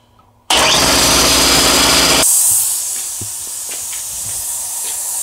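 An air compressor with a faulty one-way check valve lets out a sudden loud burst of escaping air. The burst cuts off after about two seconds into a softer, continuous hiss of air leaking past the valve.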